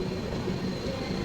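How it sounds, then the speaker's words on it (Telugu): Passenger train slowing down, a continuous low rumbling rail noise with faint wheel clatter, heard steadily from on board for a brief moment. "ఈ ట్రైన్ కూడా స్లో చేసాడు"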